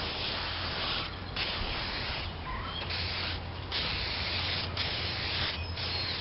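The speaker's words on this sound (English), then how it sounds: "I like spray urethane and just coat them good." Spray urethane coating misted onto plaster in steady, loud hissing bursts with short pauses between passes, close to the listener.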